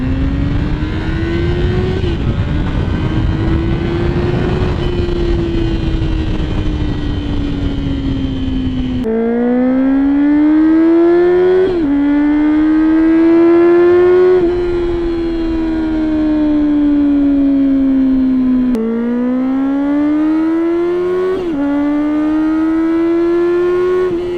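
A motorcycle exhaust roars loud and near through an acceleration pull, its pitch climbing steadily within each gear and dropping sharply at several shifts, with no talking.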